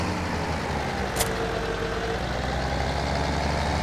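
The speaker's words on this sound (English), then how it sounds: "come and get in this tractor" A tractor engine in Farming Simulator 17 idles with a continuous low rumble, steady and fairly loud throughout, with one faint brief click.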